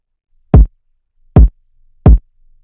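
Three punchy kick drum hits spaced evenly, each hard-clipped by Ableton's Saturator in Classic clip mode, loud and alone with silence between.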